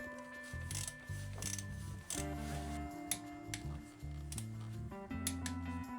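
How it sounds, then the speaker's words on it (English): A ratchet wrench clicks in short, rapid bursts while torquing screws on the flywheel of a BMW R1150GSA motorcycle, close and fairly quiet, with metallic taps and brief pauses between strokes. "Both screws torqued to 41 Newton meter."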